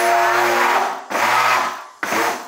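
A blender motor whirs loudly up close in three short bursts mixing liquid ingredients for cornmeal cake batter, each cutting off briefly before starting again.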